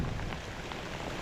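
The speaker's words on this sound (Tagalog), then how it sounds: "Yan, lakas na naman ng ulan mga kadilit." Heavy rain pours down during a typhoon over a tomato garden, a steady, dense, close hiss of drops drumming on surfaces with no voices over it.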